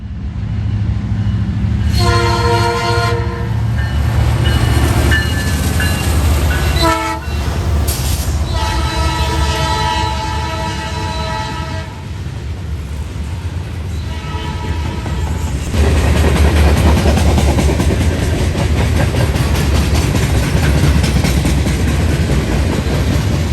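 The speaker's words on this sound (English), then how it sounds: "The leader on this train had a crazy horn that sounded like one of the chimes wasn't working." Norfolk Southern freight train 179 passes near London on the Big Four route, its lead locomotive sounding several loud horn blasts with an off-sounding chime while heavy rolling rumble continues throughout.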